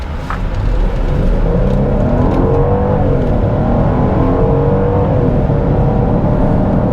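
A 2022 Genesis GV70 3.5T AWD SUV with a 3.5-liter engine accelerates hard on the road, its steady loud engine roar climbing in pitch through several gear shifts with no talking.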